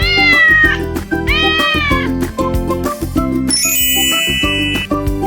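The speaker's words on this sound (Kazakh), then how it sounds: "Ал бұл мысық, ол мяу-мяу дейді." A cat meows loudly several times over bright children's farm-animal music with tinkling bell chimes.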